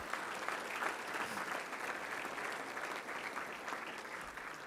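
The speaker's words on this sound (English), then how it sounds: "Let's give them and all of our sponsors, all of our volunteers, a big round of applause." Steady crowd applause for sponsors and volunteers at a Touchdown Club gathering, a continuous dense patter of many hands at moderate distance, fairly even in loudness throughout.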